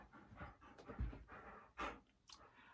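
A dog chewing on a slipper indoors, quick rhythmic panting breaths with soft thuds and rustles of chewing, close but faint, irregular bursts without any voices.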